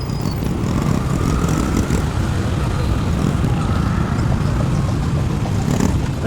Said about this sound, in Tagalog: Ay, malalaking truck na rin kasalubong natin ah.